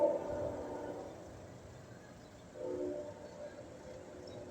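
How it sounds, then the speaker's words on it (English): A train rolls past near Lake Erie at Sheffield, Ohio, a faint, distant low rumble with a couple of slight swells in loudness, heard alone at a low level. "There's a train coming in."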